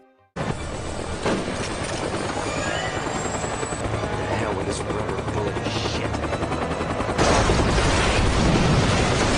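A military helicopter in a war film roars steadily throughout with a loud rotor and engine drone, which swells louder near the end, mixed with faint film effects and no talking.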